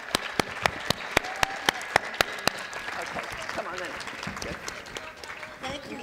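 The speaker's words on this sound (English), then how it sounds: "Ladies and gentlemen, please clap and really applaud." An audience applauds poets after a poetry panel at a literature festival, with sharp, evenly spaced claps ringing out over a crowd and a voice talking through it before the clapping thins.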